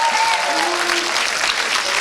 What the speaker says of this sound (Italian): Fate un applauso alle tifose.